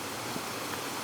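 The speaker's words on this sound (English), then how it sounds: "The third waterfall of the day." A waterfall near Edinburgh gives a steady, broad rushing roar of falling water, constant and fairly loud, with no voices over it.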